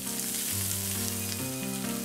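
Korean hanwoo beef sirloin and tenderloin sizzle steadily on a hot grill, a constant crackling, hissing fry heard close and loud, with faint background tones and no talk.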